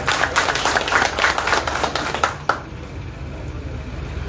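An indoor crowd at a political gathering claps enthusiastically, dense rapid applause for about two and a half seconds that ends abruptly and leaves a quiet room hum.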